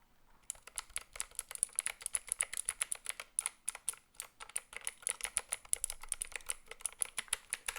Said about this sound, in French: Ouais, on est sur des switches bleus, donc c'est des switches qui font énormément de bruit.